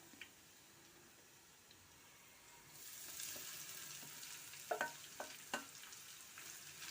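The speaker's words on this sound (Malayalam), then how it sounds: "ഇനി ഇതിലേക്ക് അരിഞ്ഞു വെച്ച പ്ലാവില ചേർത്ത് കൊടുക്കാം." Chopped jackfruit leaves hit a hot pan and start frying, the quiet background swelling into a steady close sizzle about halfway through, with a few sharp scraping clicks of stirring near the end and no talk.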